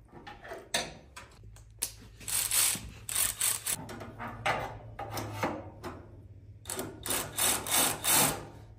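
Tightening a DPF filter clamp on a Freightliner One Box truck, with repeated close ratcheting and scraping bursts of metal work, uneven in rhythm and fairly loud, without speech.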